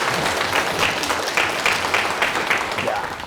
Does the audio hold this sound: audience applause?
yes